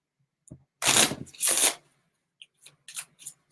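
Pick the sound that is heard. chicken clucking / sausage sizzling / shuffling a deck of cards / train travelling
shuffling a deck of cards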